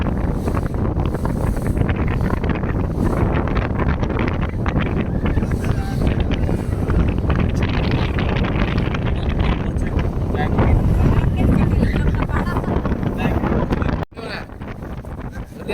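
A boat slicing through sea waves on a beach trip, with heavy wind buffeting the microphone and a constant rush of water and engine noise, loud and close throughout.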